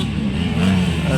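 An 85cc motorcycle engine revving hard during a first-heat race in Aleosan, a loud buzzing whine that rises in pitch, with an announcer's voice running over it.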